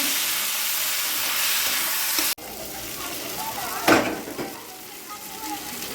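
Loud hissing sizzle of potatoes frying in a pan cuts off abruptly, then a softer sizzle continues with a brief clatter partway through.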